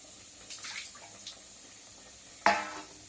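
Curry leaves being washed in water, with soft swishes and light splashing followed by one louder splash near the end.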